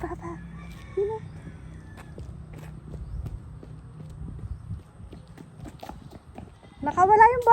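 A goat at a home with loose farm animals, giving a short nasal bleat near the end, which follows quieter rustling, shuffling steps and thuds.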